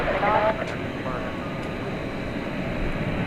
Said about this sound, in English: most of the action here on the west side currently is planes getting ready